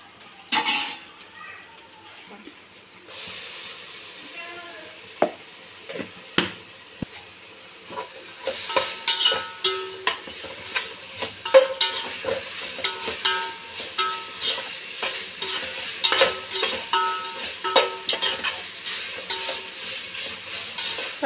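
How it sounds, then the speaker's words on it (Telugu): Ginger garlic paste frying in a pan while being stirred: quiet at first, then a rising sizzle with repeated scraping and clinking of a spoon against the pan, close up and steady over the later half. "కొంచెం ఇక్కడనే వేయించుకోవాలి, కలుపుతూనే ఉండాలి"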